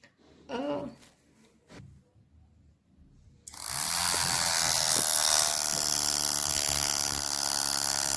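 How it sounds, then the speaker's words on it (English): A small DC motor in a bio-battery powered home automation setup switches on after a quiet stretch and runs steadily with a high, whirring mechanical buzz, loud and close, holding continuously to the end. "Here the DC motor is running."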